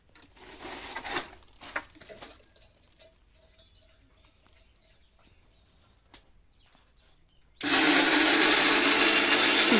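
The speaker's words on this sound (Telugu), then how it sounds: "మా అమ్మ పిండి మిక్సీ పడుతుంది." A kitchen mixer grinder starts up and grinds lentil flour, a loud steady whir that bursts in near the end after quieter household clatter and faint knocks.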